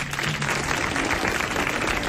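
A 1984 French TV studio audience bursts into applause for a prize winner, a thick continuous roar of clapping that holds at an even, loud level for a couple of seconds.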